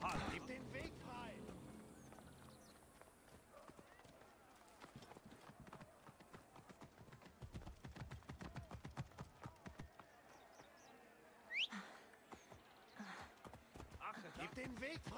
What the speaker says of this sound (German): Ich brauche jetzt ein Pferd.